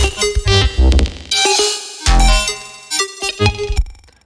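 A dense, shimmering granular synth texture from Fruity Granulizer stutters and swells in choppy fragments, heavily processed with effects, loud and close with abrupt dropouts.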